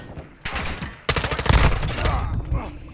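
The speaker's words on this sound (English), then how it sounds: "You are taking effective fire." Video game gunfire in a squad combat shooter: quiet at first, then a burst of shots, a loud volley of rapid firing and continued shooting to the end, with faint voices underneath.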